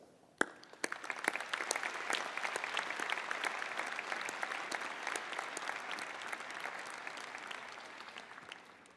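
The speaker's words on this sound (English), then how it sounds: "I ask you all to please thank her for her contributions to our university with our applause." Convocation audience at the Ted Rogers School of Management applauding in tribute, opening with one sharp clap and then swelling into sustained, dense clapping from a large crowd that stays even before gradually easing off.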